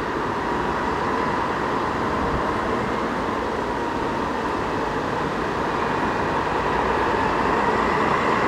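Regional express train pulling away between Fridingen and Sigmaringen, a steady loud rumble and rolling drone heard from inside the carriage, with no talking.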